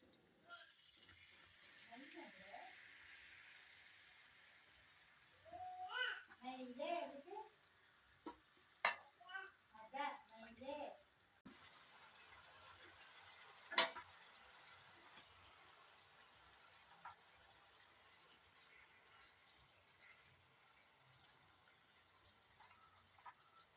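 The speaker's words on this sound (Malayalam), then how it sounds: "നമുക്ക് പുളിവെള്ളം ഒഴിക്കാം അതിലേക്ക്." Tamarind water poured into fish frying in spiced masala for Kerala-style fish pollichathu, bringing a soft gushing splash and stirring clatter over a steady low sizzle that fades to a quiet background hiss.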